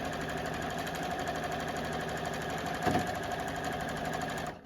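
A JUKI sewing machine stitches a straight line, a steady fast mechanical whir with dense needle ticking, close and even throughout, with a small clunk midway.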